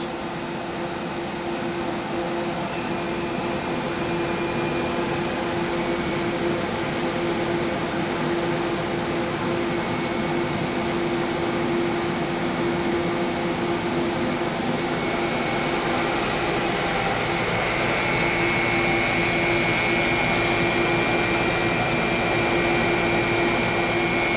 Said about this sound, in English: that's a pretty good load for this smaller alternator. And then you can vary the speed